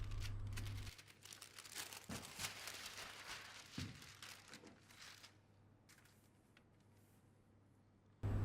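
Tracing paper crinkles and rustles in close, irregular bursts as a dress pattern is traced, with a few sharper crackles and handling thumps, then quieter scattered crinkles tapering off before a sudden loud rustle at the end.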